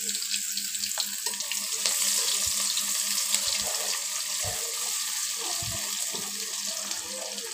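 Onions sizzling as they hit hot oil with spluttering cumin seeds in a pan for a fish curry, a steady hissing fry with sporadic pops and crackles, close and continuous, no voices.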